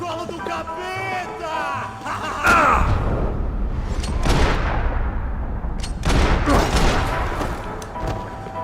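Gunfire in the video game Max Payne 3 rings out in loud bursts of booming shots and rapid volleys, with voices talking over the action between and during the shooting.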